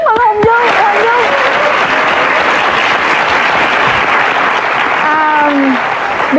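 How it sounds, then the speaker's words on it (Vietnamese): TV game show studio audience breaking into loud, dense applause that fills the whole stretch, with a voice briefly audible over it near the start and again near the end. "Một tràng pháo tay chúc mừng Hồng Nhung"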